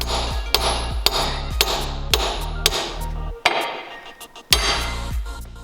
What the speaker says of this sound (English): Plus I'm hitting it with the chisel and it still can't go.